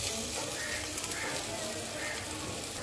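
Masala spice paste frying lightly in a pan, a steady soft sizzle and crackle with a few brief stirring scrapes, close and moderately quiet throughout.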